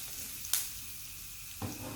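Onions sizzle in a pan on a camp stove at a motorcycle campsite, a steady soft frying hiss that runs throughout, broken by two brief clattering knocks.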